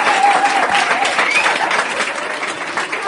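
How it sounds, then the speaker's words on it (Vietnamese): A crowd at an evening folk-music performance celebrating an anniversary of a family ancestral hall claps loudly and continuously, with the dense applause running steadily throughout. "một tràng vỗ tay thật lớn nữa để chương trình văn nghệ xin phép được bắt đầu"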